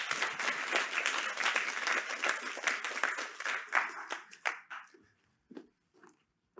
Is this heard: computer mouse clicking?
no